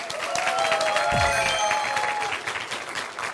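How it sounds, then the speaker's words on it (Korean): A lecture audience claps to welcome a guest speaker, a steady wash of hands at moderate volume with faint tonal sounds running through it. "박수 부탁드립니다"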